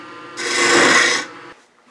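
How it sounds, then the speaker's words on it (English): A wood lathe spins a small spindle while a gouge cuts a finial on a birdhouse ornament, giving one short, close, hissing scrape that swells and fades over about a second against a low motor hum. "I'm going to turn a little finial on the end."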